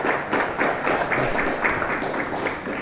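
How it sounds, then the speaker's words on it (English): Audience applause for the Minister of Justice at a security training event, steady dense clapping from a crowd that holds at an even level throughout, with no voices over it. "I think we all owe a tremendous round of applause to the Minister of Justice."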